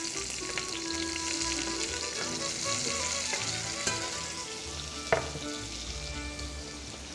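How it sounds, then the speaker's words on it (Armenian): Chopped onion dropped into hot oil in a pot sizzles steadily and loudly, a dense continuous crackle with a few sharper pops and spits rising above it. "և այն անմիջապես սկսում է տապակվել։"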